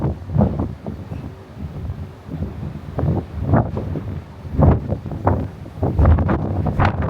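Wind gusts roar across the open deck of the Sapphire Princess cruise ship on a sea day, a loud, buffeting rush that swells and ebbs in uneven bursts against the microphone.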